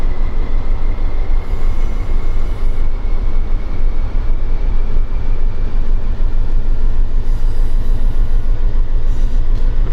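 A CSX freight locomotive runs in the Run 8 train simulator, giving a loud, continuous diesel rumble with a steady low throb and rail noise for the whole stretch.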